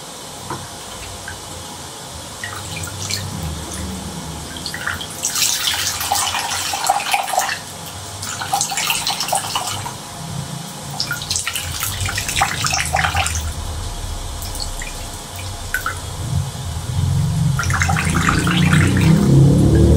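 Water runs and splashes in bursts, loud and close, with gushing surges and quieter gaps in between, then a steadier flow building toward the end, with no talking.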